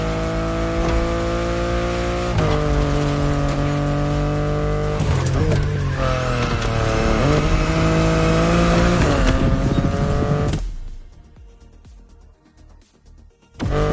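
BMW i8 in The Crew Motorfest, driving at speed with a loud, steady engine drone that rises and shifts through gears for about ten seconds, then drops away abruptly to near quiet before a brief return.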